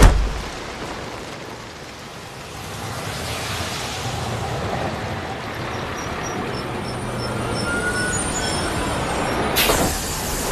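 A city bus with air brakes idles and rolls in a steady broad rumble and hiss for several seconds, ending in a sharp burst of air near the end, with no speech.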